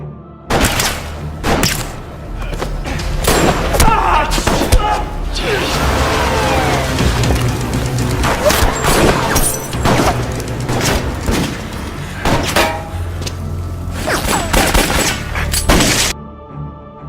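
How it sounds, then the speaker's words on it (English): Heavy gunfire from North Korean snipers erupts during a climactic Korean action-film brawl, with rapid loud shots, bursts and thuds cracking continuously over a dense, chaotic mix of impacts and music. "Suddenly, snipers from the North shoot at them."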